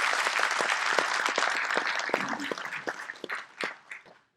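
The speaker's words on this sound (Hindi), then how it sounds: "एक बार उनके लिए जोरदार तालियां इसमें।" Applause for a young tabla player at a Dr. Ambedkar birth anniversary event held at a metro headquarters: dense, steady clapping from a crowd that gradually thins into scattered claps and fades out.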